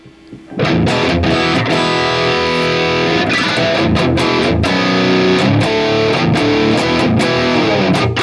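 Overdriven metal guitar chords ring out loud and saturated through an amplifier, strummed with rhythmic breaks and sustained distorted tone.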